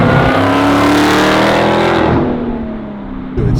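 A bone-stock 2018 Dodge Demon with its supercharged engine runs hard and loud up close, a steady roaring growl with supercharger whine that eases off toward the end before a brief burst returns.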